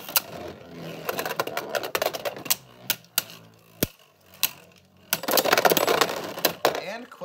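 Beyblade Burst tops Quetziko Q2 and Super Satomb V spin and collide in a stadium, giving sharp clicking impacts and rattling scrapes in irregular bursts, with a dense stretch of grinding clashes near the end.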